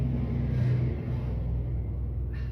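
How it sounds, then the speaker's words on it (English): Logging truck passing by: a loud, steady low rumble of a heavy engine close by, holding level throughout with no voices over it. "Sorry, another logging truck."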